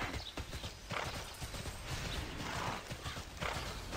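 A horse mount in the video game TERA, its hooves clip-clopping in a quick, steady gallop rhythm, fairly faint, with a brief whinny, no speech.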